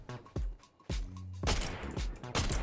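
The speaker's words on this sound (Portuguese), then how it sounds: "Vamos soltar uns tiros aí." Gunfire in a video game streamed through Boosteroid cloud gaming: several sharp, loud shots and short bursts in quick succession, close and dominant, with no talking.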